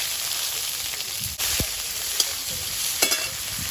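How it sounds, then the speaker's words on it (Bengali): Chili, whole mustard seeds, black cumin and chopped onion sizzle in hot oil in a wok, a steady close hiss with a few sharp pops and a stirring scrape partway through. "কড়াইতে তেল দিয়ে দেব লঙ্কা গোটা সর্ষে কালো জিরে পেঁয়াজ কুচি"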